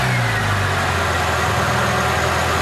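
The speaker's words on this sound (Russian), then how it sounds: "Вот, эта коробка, сволочь, воет у меня." A VAZ 21213 car with a warmed engine idling close by while its gearbox whines, a steady loud mechanical drone with a low hum and a constant whine on top, no talking.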